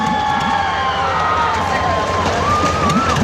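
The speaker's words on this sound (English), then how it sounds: "That may be the loudest cheering section we've heard all." A county fair demolition derby grandstand crowd cheering loudly and continuously for a driver, with whistles and shouts and a wavering siren-like tone over the roar.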